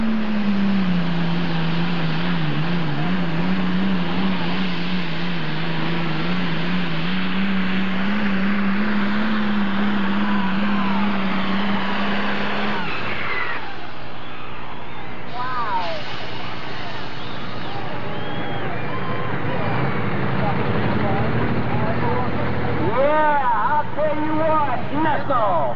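Riley Russell's International 1066 pulling tractor, nicknamed the Workhorse, roars loud and steady through its twin stacks with about 95 mph tire speed, its pitch shifting partway through, while an announcer talks over it.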